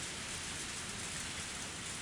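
Steady rain falls outdoors with a dense, even hiss of drops that holds at a constant moderate level, with no other sounds standing out.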